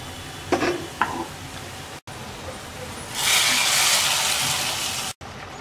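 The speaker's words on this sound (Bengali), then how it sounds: "পেঁয়াজ রসুনটা ব্রাউন কালার করে ভেজে নেওয়ার পর এবার আমরা ডালের মধ্যে ঢেলে দেব" Browned fried onion and garlic are poured into cooked lentils with bottle gourd leaves, bursting into a loud sustained sizzle after a couple of clattering knocks, the hiss holding for about two seconds before cutting off.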